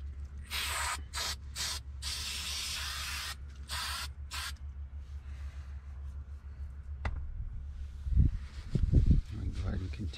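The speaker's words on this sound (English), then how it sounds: "you may need to spray some more adhesive just along the edges" Several short bursts of hissing spray adhesive from a can during Toyota 4Runner rear seat upholstery work, close and loud, followed by quieter handling noises and faint rustling.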